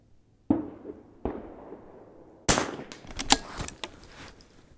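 .22 rifle shots at an outdoor shooting range: two sharp cracks about a second apart, then a louder cluster of quick bangs and echoing pops, with no talking.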